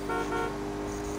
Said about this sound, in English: Quit honking the horn.